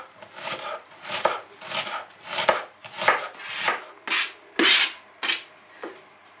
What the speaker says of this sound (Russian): Лук нарезаем на четвертинки